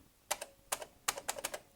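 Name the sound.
pressing keys on a Thomson TO8D computer keyboard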